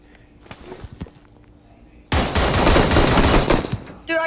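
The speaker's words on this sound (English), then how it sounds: "I was shooting too." A sudden loud burst of automatic gunfire in the PUBG video game after a couple of quieter sounds, continuing steadily for about two seconds, with a voice speaking under it.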